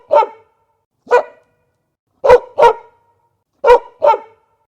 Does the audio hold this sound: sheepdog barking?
yes